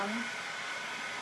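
A hot air tool blows with a steady, breathy whoosh, heating a wood bendable moulding, close and constant for a moment, with no voices over it.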